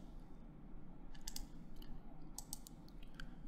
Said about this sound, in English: by right-clicking on these points.